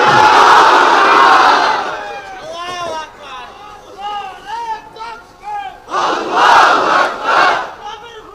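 A large crowd at a religious sermon roars a takbir chant in two loud surges, one at the start and one near the end, with a single voice leading in between.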